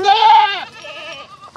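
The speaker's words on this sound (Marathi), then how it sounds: "ही शेळी गागती हिलाच घेतो मी आता." A goat bleats loudly and close by, one long wavering cry followed by a fainter shorter call, with no talk over it.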